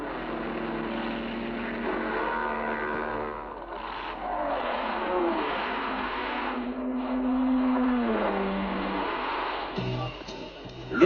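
Ferrari GT race cars at the 1959 24 Hours of Le Mans on the Circuit de la Sarthe pass with rising and falling engine whines, one buzzing tone fading into the next, over a constant thin background hiss.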